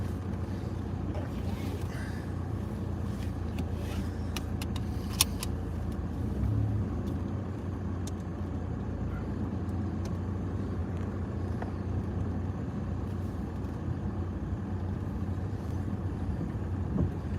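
A car drives down a cliff road toward the bottom in the aftermath of Storm Eunice, a steady low engine rumble with road and wind noise holding constant throughout, no talk.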